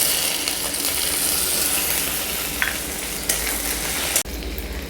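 Chopped onion goes into a pan of frying minced garlic, giving a loud, close, continuous sizzle with a few small clinks and a sudden break and shift near the end as the ingredient drops in, without speech.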